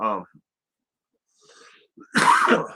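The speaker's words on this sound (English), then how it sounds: "Sorry for coughing there" On a live talk-show broadcast, a voice speaks briefly and a few faint sounds follow, then one harsh, close cough bursts out near the end.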